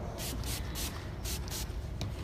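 Fine hydro mist sprayed onto a woman's medium-length hair during a haircut: several short hissing bursts, close and fairly loud, over a steady background.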